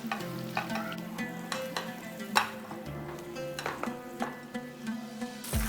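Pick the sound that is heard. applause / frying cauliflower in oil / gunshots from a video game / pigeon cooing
frying cauliflower in oil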